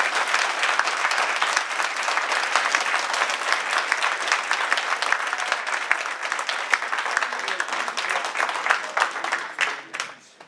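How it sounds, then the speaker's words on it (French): Sustained audience ovation at a pan-African gathering, dense applause and clapping from a crowd holding steady and loud for about ten seconds before tapering off at the end. "je vous demanderai de faire une ovation au frère Willy Black"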